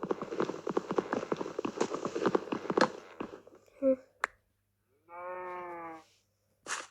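A cow or bull in a video game gives one drawn-out moo after a stretch of fast talking and clicky sounds, followed by a short sharp noise.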